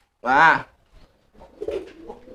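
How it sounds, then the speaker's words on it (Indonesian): A racing pigeon of a sprint breed, kept in a loft, gives one short, clear call up close, followed by quieter shuffling and a brief spoken word. "Ini merpati balap asli, balap sprint."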